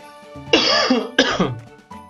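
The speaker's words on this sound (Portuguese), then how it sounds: "Não, não é corona não, é só tosse mesmo." A person gives two harsh coughs in quick succession, the first longer and the second a short sharp burst, close and clear with light background sound.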